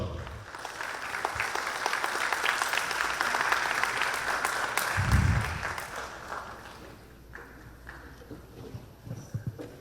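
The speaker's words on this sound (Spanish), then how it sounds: "Fuertes aplausos." Sustained applause from a crowd, dense clapping that swells and then gradually fades out, leaving a few scattered sounds.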